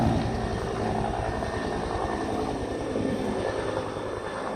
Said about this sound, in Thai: มีเครื่องบินด้วย